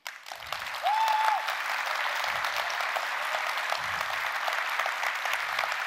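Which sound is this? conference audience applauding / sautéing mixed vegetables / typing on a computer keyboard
conference audience applauding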